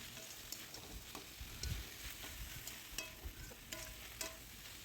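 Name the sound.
stirring banana stem curry in pan as water dries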